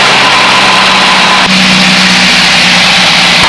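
A small training airplane's engine is throttled back to 1,800 RPM, a loud, steady engine drone filling the cabin with a slight shift in tone midway.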